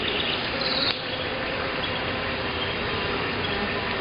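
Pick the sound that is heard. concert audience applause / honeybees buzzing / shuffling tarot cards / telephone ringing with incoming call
honeybees buzzing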